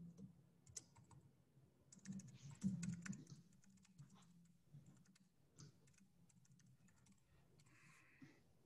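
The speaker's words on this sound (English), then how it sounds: "If I could type, I'm using a not my normal keyboard here" Keystrokes on an unfamiliar PC-style computer keyboard, clattering in quick irregular bursts with short pauses, close and fairly quiet, no talking over them.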